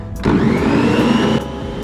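Eggs being beaten with an electric mixer for raisin wheat bread dough, a loud close motor whir that surges up for about a second then drops back to a lower steady hum.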